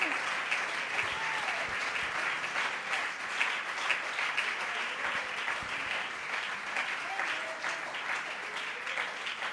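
A church congregation at a Sunday morning service applauds in a sustained, dense wash of clapping that fills the room, with a voice faintly heard beneath it.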